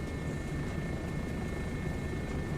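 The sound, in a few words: video game helicopter engine, recorded from Roman Atwood's helicopter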